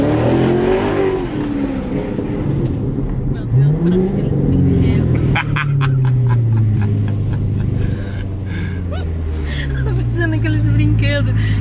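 A Chevrolet Corvette engine revs and accelerates loudly up close, its pitch rising and falling through several pulls, while people inside talk and exclaim over the engine.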